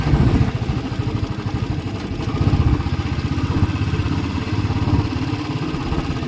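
A motorcycle engine chugs with a rapid, uneven rumble as the bike rolls over a set of three closely spaced speed breakers on a road, the engine note dipping and recovering, loud and close.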